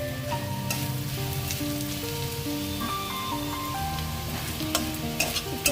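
Vegetable peels (khosha) sizzle steadily in a little oil, a close, continuous frying crackle with faint scraping and a few brighter pops near the end.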